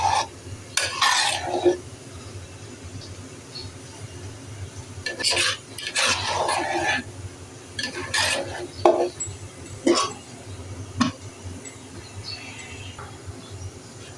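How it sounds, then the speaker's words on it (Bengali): A spoon stirs broken rice (khuder bhaat) with coriander leaves in a cooking pot, giving intermittent scraping and clinking strokes over a steady low stove hum, close and fairly loud, with no talking. "খুদের ভাত রান্না হয়ে গেছে, আমি একটু শেষ নাড়াচাড়া করে দিচ্ছি।"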